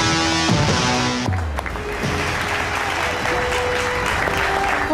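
Sustained applause from an awards-ceremony audience for India's women's cricket team, loud and dense with cheering rising in after a brief musical sting at the start.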